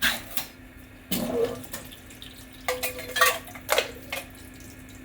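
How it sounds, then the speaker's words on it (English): Liquid from canned chickpeas drains through a metal sieve into a sink, with splashing pours, watery trickles and a few clinks of metal against the basin, all at close range. "I'm going to sieve them, strain them, I guess, get rid of the liquid."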